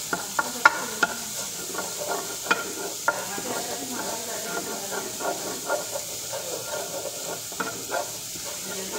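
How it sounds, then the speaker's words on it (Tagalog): Chicken and garlic frying in a pan until golden brown while being stirred: a continuous sizzle and hiss, with sharp spatula clinks against the pan scattered through, and faint background sound beneath. "Mikos-mikos hanggang maging golden brown siya."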